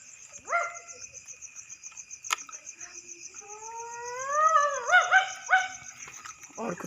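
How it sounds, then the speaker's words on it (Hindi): Dogs bark and whine at night in a village, a few rising, wavering yelps and barks at mid distance, over a constant shrill chorus of crickets, with no talk. "और कुत्ते भी बहुत भौंक रहे हैं"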